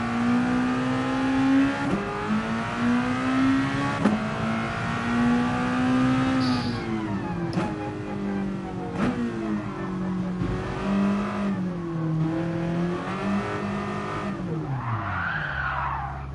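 Race car lapping Le Mans in a racing video game, its engine droning steadily and shifting pitch through gear changes, with tire squeal and skidding through corners, loud and close with no talk.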